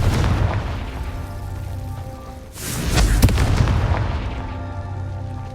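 A fiery Confringo spell blast goes off in the Hogwarts Legacy video game, a broad booming explosion that swells midway with a sharp crack and rumbles on loudly under dense in-game background noise.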